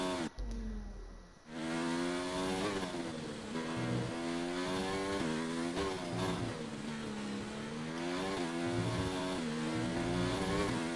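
An F1 car's engine in F1 2019 revs hard through gear changes on the Spain circuit, rising and falling pitch sweeps repeating loudly and continuously after a brief dip near the start, with no talk.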